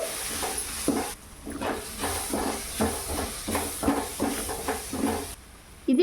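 Garlic chilli paste sizzles in a curry pan, a steady close hiss with rhythmic pulses as it is stirred, briefly dropping quieter midway.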